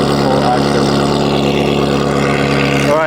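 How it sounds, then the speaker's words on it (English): A straight-piped Ferrari 360 race car with a Powercraft exhaust roars loudly and steadily throughout, its engine held at high revs with a harsh, continuous exhaust blare and a brief pitch sweep near the end. "that Powercraft exhaust is out of control"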